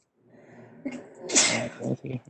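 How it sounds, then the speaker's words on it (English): A single loud sneeze close by, with a sharp intake of breath before it and a brief trailing exhale afterward. "Bless you. Whoever sneezed."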